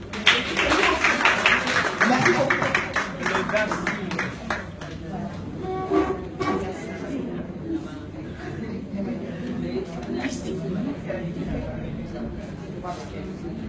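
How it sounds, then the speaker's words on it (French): Audience applause for three women at a conference on African women and leadership, a steady roomful of clapping throughout, mixed with voices and chatter. "Donc je voulais vous applaudir tous ces trois dames-là"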